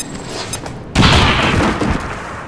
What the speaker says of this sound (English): We're going to start things off with a grenade.